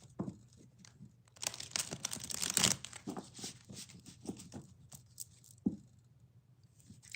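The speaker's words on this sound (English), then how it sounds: "let me get these shuffled for us" A deck of tarot cards is shuffled close by, with soft riffling, crinkling and snapping bursts that peak in a brief flurry before quieter shuffles.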